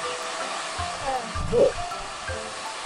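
Salon hair dryer blowing steadily while hair is dried, a continuous close airy roar throughout with a brief swell midway and a short word spoken over it.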